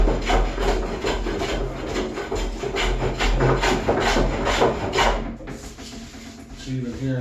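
A hand plane shaves the wooden surface of a small counter top in rhythmic, close rasping strokes, roughly a dozen passes, ending with a few quieter scrapes.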